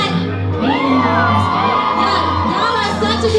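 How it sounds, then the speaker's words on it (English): A concert crowd whoops, cheers and shouts in a loud, continuous roar that fills the whole stretch, with a low musical hum underneath. "Make some noise for yourselves tonight."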